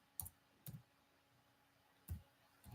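A few sparse key clicks on a computer keyboard while entering an Excel formula, faint and close, spaced irregularly in near silence.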